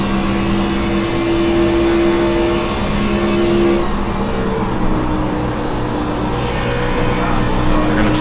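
A NASCAR Xfinity Series stock car in iRacing at Las Vegas Motor Speedway holds a loud, steady engine drone with whining harmonics that shift pitch as it accelerates and eases off, continuous throughout with no voices.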